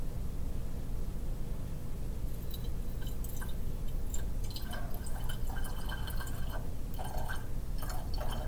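Liquid poured into a 100 millilitre volumetric flask in a lab, starting as a soft steady trickle and turning into scattered drips and small splashes as filling nears the line, close and fairly quiet with no talking.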